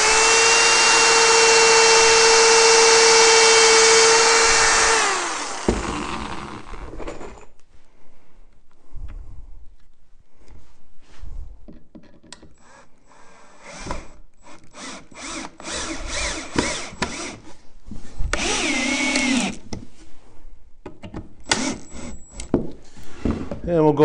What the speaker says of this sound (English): we're gonna drill the next hole